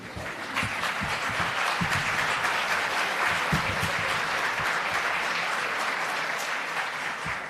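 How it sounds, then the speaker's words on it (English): Sustained applause fills a conference hall at a progressive politics gathering in honour of a same-sex marriage law passed in Greece, steady dense clapping at moderate loudness running for several seconds with no talk over it. "I think he deserves a round of applause"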